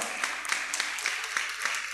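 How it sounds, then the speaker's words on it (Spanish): Applause for musicians at an evening show in Posadas, a steady crowd clapping with a few sharper claps standing out, fairly loud throughout the short stretch. "Un aplauso para estos musicazos, por favor."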